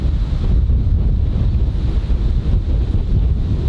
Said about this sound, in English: Wow, it's so windy right now.